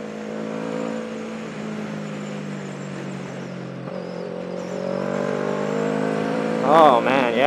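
A two-stroke go-kart engine runs steadily through a race, a continuous buzzing drone that rises in pitch toward the end as it revs harder, with a brief voice-like warble near the close.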